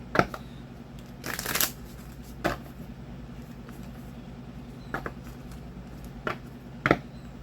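Tarot cards being shuffled and riffled close by, with a longer riffle early on and several brief snaps and taps spaced out afterward.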